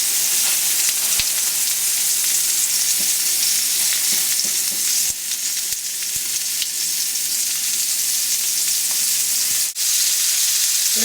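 Pork chops frying in a pan just after being flipped, a steady loud sizzle and crackle filling the whole stretch with small pops and brief utensil scrapes.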